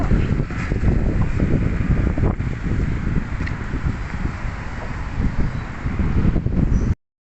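Strong wind roars and buffets the microphone continuously in McKinley West, Taguig, a heavy rumbling gust with rustling trees, loud and steady until it cuts off abruptly.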